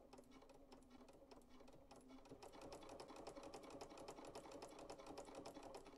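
A Bernina sewing machine with a ruffler attachment runs steadily, its rapid mechanical stitching clatter speeding up and growing slightly louder as the ruffler engages on every stitch, heard alone without talk.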